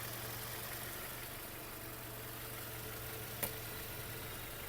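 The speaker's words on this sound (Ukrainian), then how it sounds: "робота двигуна" A Volkswagen Golf Plus 1.6 MPI petrol engine idles at a steady low hum, even and continuous, with a single faint click partway through.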